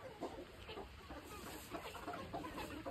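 Hens in a farmyard, where a stash of eggs was eaten, cluck in a steady scattered chatter at a fair distance, fairly quiet and with no voices over them.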